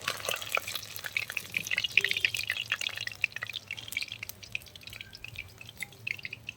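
Fried boneless chicken leg pieces are lifted out of hot oil, giving scattered close drips and light bubbling, with soft taps and splashes over a low hum and no talking.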